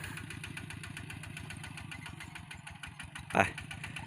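A truck engine labours steadily while hauling timber up a slope, with a continuous low, rhythmic drone close by and a short sharp clank near the end.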